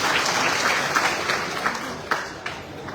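A crowd clapping hands at an outdoor political rally, a dense, loud patter with a few sharper claps standing out near the end, with voices mixed into the noise.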